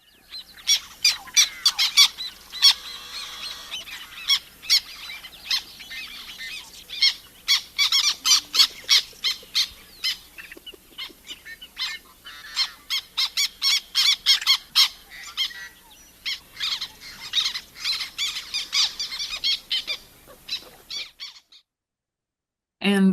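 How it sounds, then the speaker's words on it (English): Black terns give harsh, squeaky squawking calls in quick, irregular bursts, close and fairly loud, repeating for about twenty seconds before falling silent. "we have the black tern, which has a very harsh kind of a squawking noise"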